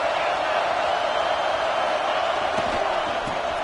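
Stadium crowd noise in the college football video game NCAA 26, a steady, loud roar of a large crowd holding constant throughout, with occasional faint thuds underneath.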